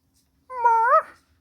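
A pet cat that has crept into a bed gives a single clear, close meow lasting about half a second, with a rising then falling pitch, alone in a quiet room.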